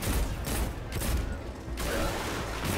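Rapid gunfire from the shooter game Destiny 2 on PC, weapons firing at harpy enemies, a dense continuous volley of shots with mechanical clatter running steadily throughout.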